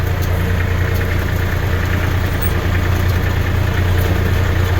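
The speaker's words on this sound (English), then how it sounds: "Just keep the tractor moving." A tractor engine runs steadily while spreading sand, with a loud continuous low drone and a mechanical rattle and no pauses.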